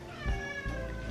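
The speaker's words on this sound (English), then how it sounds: "If you hear Hana meowing" A house cat in a kitchen gives a short, faint meow, a single brief call lasting under a second.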